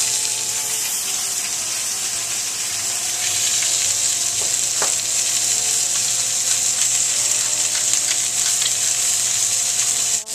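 Meat searing in a crowded-free pan after salt and pepper seasoning, giving a loud, steady, continuous sizzle with a faint brief clink partway through, no voices.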